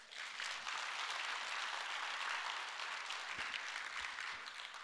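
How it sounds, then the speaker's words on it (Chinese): An audience at a company introduction presentation breaks into applause, a sustained, fairly distant wash of clapping lasting several seconds. "要的话，请给我掌声"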